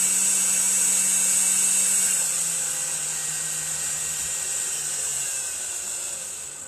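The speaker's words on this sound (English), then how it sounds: "So I'm going to drill some screws or drill holes into the bottom of this planter" A high-pitched power drill whines steadily while drilling holes into the bottom of a wooden planter, slowly easing off in pitch and loudness as it runs on without pause.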